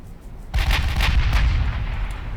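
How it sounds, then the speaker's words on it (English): Warship guns fire in the naval video game Ultimate Admiral Dreadnoughts, with a battlecruiser and battleship in action: a sudden loud boom followed by a sustained, rumbling roar of gunfire with no talk. "Interesting they're not firing back, though. Well, the battlecruiser is, but the battleship is not."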